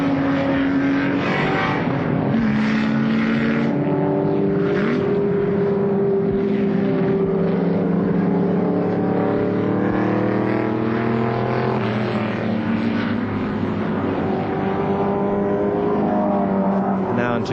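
A Holden Torana XU1 race car, number 14, roars around the Warwick Farm circuit in a 1973 touring car race, its engine a loud continuous howl rising and falling through the gears, with wind buffeting and commentary voice over it.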